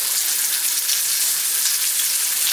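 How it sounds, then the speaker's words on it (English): Sausage and hash browns frying in a pan for breakfast, giving a steady, dense sizzle with a constant hiss and no pauses, close and fairly loud throughout. "I'm making breakfast, so that's the little sizzling y'all hear"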